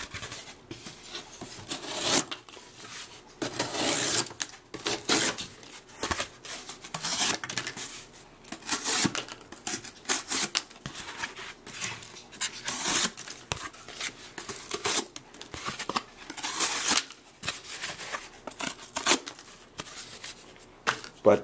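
A sharp Kershaw OSO Sweet folding knife with a hollow-ground blade slices through cardboard on a table, giving repeated close rasping scrapes and tearing strokes in an uneven rhythm.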